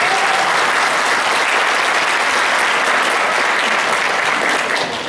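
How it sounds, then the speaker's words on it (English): A crowd at a Chinese New Year celebration award presentation applauds the performers after the show, a dense, steady roar of clapping that holds at full strength for the whole stretch. "Let's give them a round of applause for the show."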